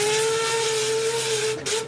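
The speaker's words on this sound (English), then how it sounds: "With a final hoot on the whistle," A long, loud steady whistle hoot, a sustained tonal blast with a slight breathy hiss that holds for about two seconds before tapering off, close and alone.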